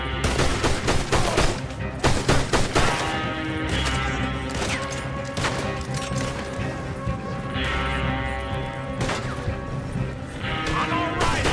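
Chaotic gunfire fills a Red Dead Redemption 2 shootout, with repeated shots and impacts overlapping with mechanical clatter and crashes throughout, steady and loud.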